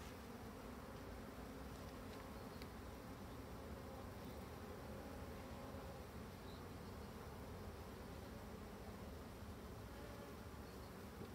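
Black honeybees swarm out of an opened Dadant hive, giving a dense, steady buzzing drone that fills the space close by. No voices are heard.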